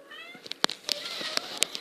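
A cat meows several times in quick succession, with short, fairly close, moderately loud calls over a quiet room.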